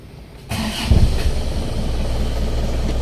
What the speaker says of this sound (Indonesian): Sekarang mari kita dengarkan suara mesinnya.